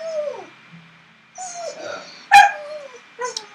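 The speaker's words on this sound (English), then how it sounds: "Sorry for the whining in the background and the barking." A dog whines and whimpers nearby in a few short, falling cries, ending in a sharper yelp, with quiet pauses between them.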